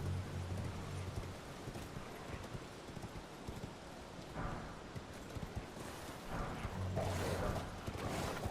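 Horse hooves in the Elden Ring video game while riding, a steady clip-clop rhythm over game ambience, fairly faint, with no speech.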